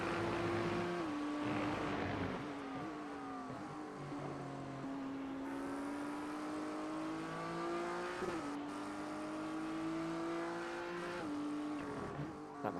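Race cars including a Mustang, McLaren and BMW lapping the Barcelona circuit in a sim racing game, a continuous loud engine whine rising and dropping through gear changes and corners, with no talk.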